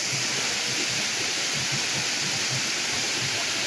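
Water rushing forcefully between rocks at Kannimar falls during heavy rain: a loud, constant broadband roar of crashing water, dense and unbroken from start to finish.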